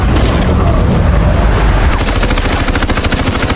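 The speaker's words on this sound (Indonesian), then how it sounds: "Ledakan hebat menghancurkan salah satu senjata terkuat Jerman yang ada di gunung tersebut." A massive, loud dynamite explosion destroying a German gun on a mountain roars continuously, followed by a rapid rumbling crackle of debris and aftershocks.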